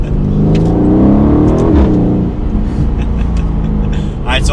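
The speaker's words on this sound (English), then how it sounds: "go into the track mode to hear that exhaust one more" Aston Martin Vantage sports car exhaust in track mode, a loud, close, deep engine drone that swells and falls through a rev, with a brief higher whine near the end.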